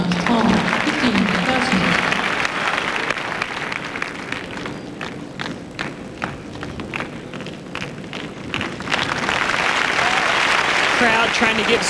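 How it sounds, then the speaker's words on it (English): A tennis crowd at a 2000 Montreal match applauds and cheers for Serena Williams, loud sustained clapping that dips in the middle and swells again toward the end, with a commentator talking over it. "Crowd trying to give Serena a little encouragement"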